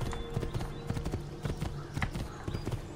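A horse's hooves clip-clop at a brisk, even trot in the Renaissance Italy setting of Assassin's Creed II, with steady rhythmic footfalls close by and faint background sound.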